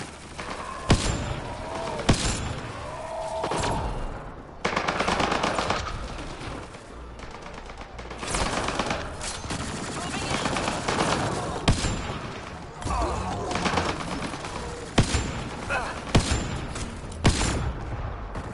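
Turrets fire in the video game Mass Effect: Andromeda, with repeated bursts of rapid gunfire and thuds over a steady background of battle noise.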